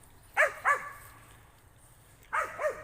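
Patterdale Terrier hunting dogs bark in a city setting: two sharp barks close together, a pause, then two more, loud and near with no talk.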